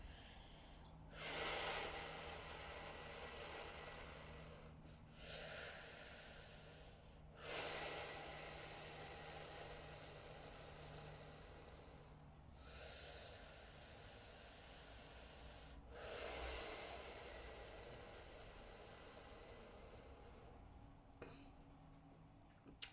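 Slow, drawn-out hissing breaths imitating the rush of ocean waves, several long inhales and exhales with quiet gaps, close and soft.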